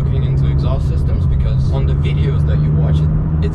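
A deep sports car engine roars steadily and loudly throughout, its throaty exhaust rumble constant, with people talking over it.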